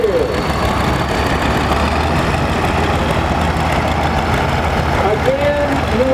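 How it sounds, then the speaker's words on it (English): A John Deere 520 tractor with a horizontal engine runs steadily in an outdoor tractor parade, a loud continuous low rumble with faint background voices. "Lawrence Matthews riding a 520 John Deere."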